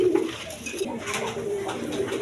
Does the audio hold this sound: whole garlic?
no